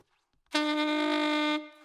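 A single saxophone squeak from a wrong tongue position during altissimo practice: one loud, bright, steady note with strong harmonics, held for about a second and then cut off, heard alone.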